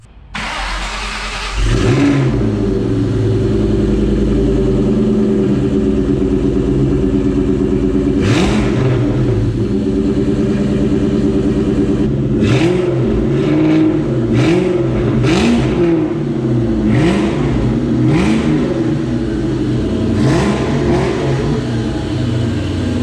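A 2003 Mustang Cobra engine cranks and fires, then settles into a loud, steady idle up close, broken by a series of sharp throttle blips and revs spaced throughout.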